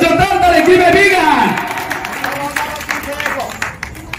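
Audience applause at a laddu auction, a burst of clapping and crowd noise loud at first and then thinning, with voices over it.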